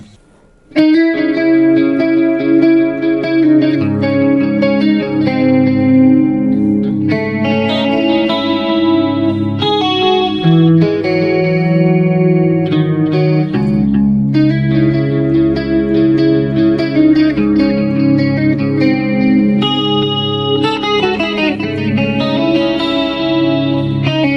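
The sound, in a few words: electric guitar with chorus effect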